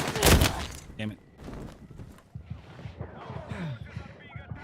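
A burst of rapid gunfire from an M39 EMR rifle in a video game opens, then quicker shots crackle under faint background noise, the game audio fairly loud and busy.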